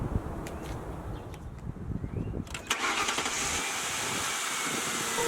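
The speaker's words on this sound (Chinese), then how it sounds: "车发动成功，再也没有尖锐的异响" A car engine cranks and catches after a serpentine belt repair, settling into a steady, even idle with no belt squeal, close and fairly loud.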